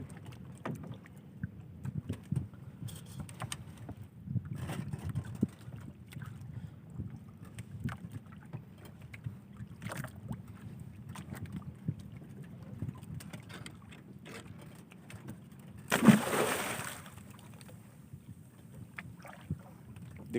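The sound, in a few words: small fishing boat on water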